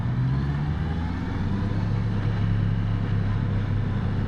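Diesel car driving on a commute, a steady low engine drone with road rumble, continuous and close, with no talk over it.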